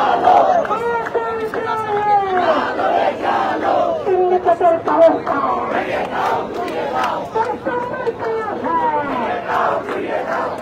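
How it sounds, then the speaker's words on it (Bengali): A large crowd of protesters demanding housing at Jagannath chants slogans in loud, rhythmic, call-and-response bursts, close and continuous, with voices overlapping throughout. "দাবির পক্ষে নানান স্লোগান দিচ্ছেন"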